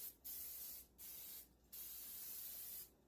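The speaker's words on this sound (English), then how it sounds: "Now I'm gonna spray the backside with some more olive oil" Three quick bursts of olive oil spray hit breaded chicken coated in pork rinds and parmesan, each a short close hiss with brief gaps between, then a fourth spray starts at the very end.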